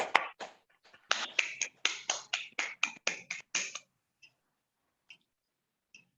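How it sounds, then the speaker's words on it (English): Around a dozen sharp, evenly paced handclaps ring out at a Bangalore Toastmasters club meeting as guests are welcomed, sounding thin and close, as if from only a few people, then trailing off into a few stray claps and quiet. "Please give them a loud round of applause and welcome them."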